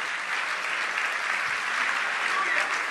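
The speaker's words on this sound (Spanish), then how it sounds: "Denle un aplauso al rey bendito." Steady, even applause from a church congregation during a worship service, a dense continuous patter of many hands with no voices standing out.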